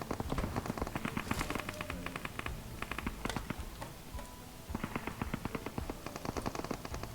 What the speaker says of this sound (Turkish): Hala silah sesleri baya yüksek